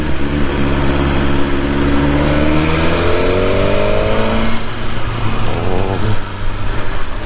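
A BMW S1000R motorcycle engine revs close and loud, climbing steadily in pitch over a few seconds, then dropping back into a rough, fluctuating idle.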